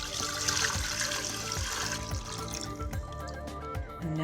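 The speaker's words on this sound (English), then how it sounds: "Pour it back into the pan." Strained vegan ramen broth poured back into a pan, a steady liquid trickle and splash running for a couple of seconds, then dribbling drips as the flow tapers off, close and moderately quiet.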